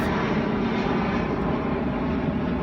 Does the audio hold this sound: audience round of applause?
no